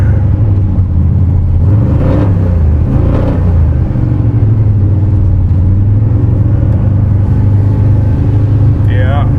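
Plymouth Road Runner with an EFI conversion, its engine running steadily with a deep idling rumble throughout, close by, a brief rising whine near the end.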